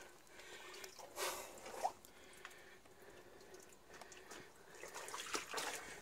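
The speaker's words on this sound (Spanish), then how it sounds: "Pero está cayendo agua allá de arriba." Water falls from above inside a forest tunnel full of bats, a few separate drips and splashes landing nearby over a quiet hollow background, with no voices.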